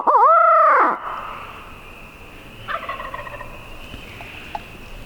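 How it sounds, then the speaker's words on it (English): A wild turkey in Kentucky hardwoods gives one loud, rolling gobble at the start, followed by quieter, more distant gobbles and bird calls over a soft outdoor background. "Gobbling tonight, that's a good sign."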